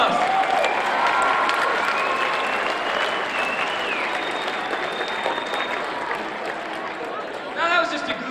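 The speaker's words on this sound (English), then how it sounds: "Give them another round of applause." An audience claps for volunteers leaving the stage, a full, sustained round of applause that gradually thins toward the end, with a few voices and a brief burst near the close.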